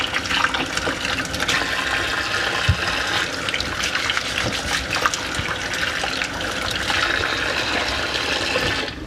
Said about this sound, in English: Once the sink is filled up with water some